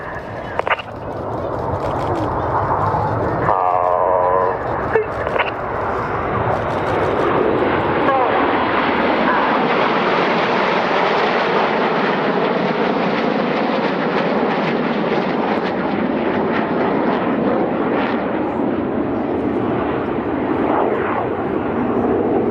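A loud, continuous roar of Red Arrows aerobatic jets passing overhead in formation at an airshow, the engine noise swelling and holding steady for a long stretch, with a brief burst of voice early on.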